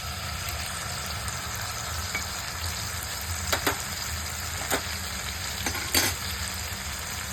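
Garlic and chili flakes frying in a pan as soy sauce goes in for sweet chilli chicken, a steady close sizzle with a few sharper crackling bursts and light stirring, no voices.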